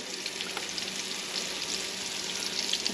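Barracuda fish frying in a pan, a steady close crackling sizzle of hot oil that runs unbroken throughout, with no talking.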